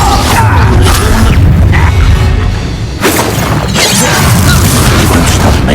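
Incendio fire spell cast in the Hogwarts Legacy video game during a fight with a goblin, heard as loud crackling, shattering bursts and booms that come in several waves over a steady low rumble.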